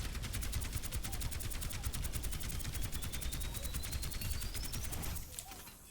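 Rapid, steady projectile gunfire from the character Mauga in the Overwatch video game, a continuous dense rattle of shots running loud and unbroken for about five seconds before trailing off.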